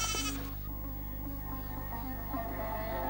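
A goat lets out a short, close bleat at the start, followed by quieter steady rural background sound.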